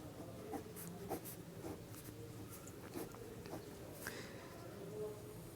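Chemistry formulas being written out during an organic chemistry lesson, with soft repeated scratching strokes that are close but faint over a low background hum.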